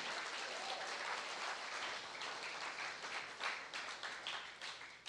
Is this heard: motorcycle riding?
no